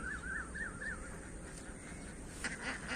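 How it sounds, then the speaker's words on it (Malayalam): Ducks on the water beside a fishing spot give a few faint quacking calls over a low, steady outdoor background. "ഓ താറാവ് ഇറങ്ങി ഗായ്സ്."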